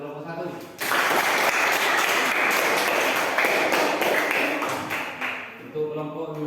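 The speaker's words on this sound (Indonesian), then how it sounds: "Tepuk tangan untuk kelompok 1." A class of students claps for group 1, a loud, dense burst of applause that starts abruptly and runs several seconds before fading into talk.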